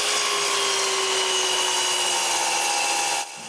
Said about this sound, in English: with all the pieces clamped one on top of the other, I cut them all to the same length.